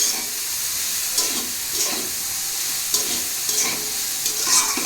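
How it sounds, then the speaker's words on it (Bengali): Cabbage is stir-fried in a hot pan for vegetarian chow mein, a loud continuous sizzle and hiss punctuated by regular scraping strokes of a spatula, close up with no talking. "বাঁধাকপিটা দিয়ে ভালো করে নাড়িয়ে চাড়িয়ে ভালো করে কষিয়ে"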